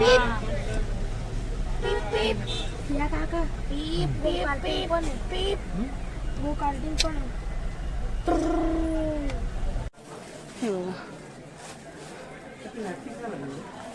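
Busy traffic near Mahabaleshwar temple at a hill station, with repeated car horn toots over a steady road hum while someone talks, the background dropping quieter toward the end.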